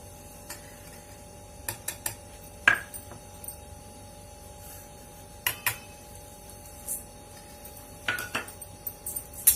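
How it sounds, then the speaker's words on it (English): Wheat flour and sugar being mixed in a big bowl, with scattered clicks and taps of a utensil against the bowl over quiet background hum, sometimes in quick clusters. "Now, mix these two things in a big bowl. I am mixing them."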